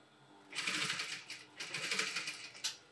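Sewing machine making the first stitches in fabric for a welt pocket on trousers: two short close bursts of rapid mechanical rattling with a brief pause between them, fairly soft and without talk.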